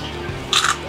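A bite into crunchy fried maya-maya fish chicharon gives one short, close crunch near the end of a brief, otherwise quiet moment.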